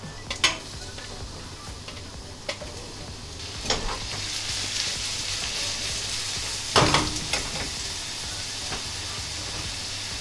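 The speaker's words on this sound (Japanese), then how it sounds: "ではキノコを全部一気に炒めていきます。" Mushrooms stir-fry in oil with chili peppers in a pan, giving a steady sizzling hiss broken by a few sharp scraping stirs and clinks of a utensil against the pan.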